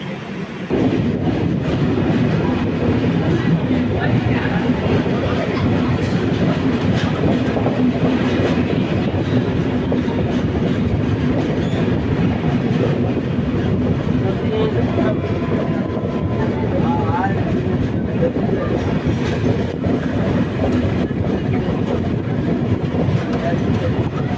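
The Sanghamitra Express train rumbles along the rails in India with a steady rolling clatter throughout, a constant close hum filling the whole stretch.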